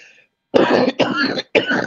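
Someone coughs three times in quick succession, close and fairly loud, each a short harsh burst separated by brief pauses, following a faint trailing sound.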